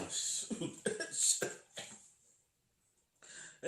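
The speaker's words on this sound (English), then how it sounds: "That shot got your boy coughing." A man coughs in a close burst of several harsh, rapid coughs, then falls quiet before one more short cough at the end.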